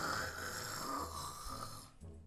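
Someone imitates snoring with a single drawn-out, rasping nasal snore, close and fairly quiet, that breaks off at the end.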